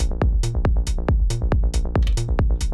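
Elektron Digitakt drum machine pattern with punchy kick, deep bass notes, tom hits and open hi-hat, looping in a steady, loud groove with no voices.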